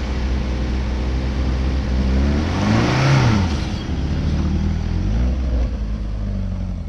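A car's engine revs hard and strains while stuck in sand, a loud continuous roar that climbs in pitch near the middle before settling back to a steady drone.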